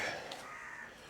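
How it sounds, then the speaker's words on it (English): Crows caw from outdoors at a distance, harsh calls over a steady background hiss, with no talking. "Excuse the crows outside, noisy things."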